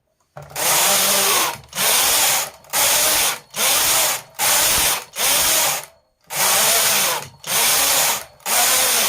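Loud rasping sweeps come from a knitting machine carriage as it knits rows of red stitches for a baby frock, about nine passes in a steady back-and-forth rhythm with short gaps between, with no voices.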